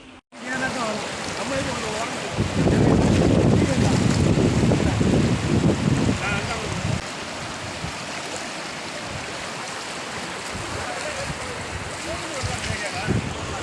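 Floodwater rushes loudly and steadily in the Tirunelveli region, a dense roar that swells in the first half and then settles to a constant wash, with voices faintly under it.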